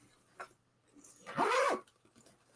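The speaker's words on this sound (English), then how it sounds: "The nice thing about this bag is that I can clip the zippers" Zippers on a travel bag being pulled and clipped shut, heard as a single close, bright rasping zip of about half a second after a few faint handling clicks.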